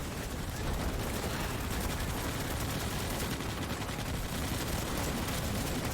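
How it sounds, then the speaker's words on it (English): Relentless automatic gunfire from players shooting bugs in Starship Troopers: Extermination, a loud, unbroken rattle of rapid shots layered together for the whole stretch. "They all shooting the bugs for XP"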